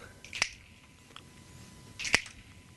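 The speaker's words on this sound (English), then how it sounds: "I want you to just snap your fingers like this." A pair of sharp finger snaps at an open mic poetry night, spaced well apart, with a faint softer snap between them in a quiet room.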